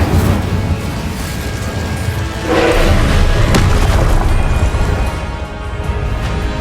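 Confringo fire spell blasts in the Hogwarts Legacy video game, heard as a loud rumbling boom that swells around the middle over a dense, continuous layer of game sound effects and score.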